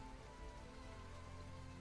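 Rain falls steadily as tabletop game ambience, a faint, even hiss of drops spattering on a surface with no break throughout.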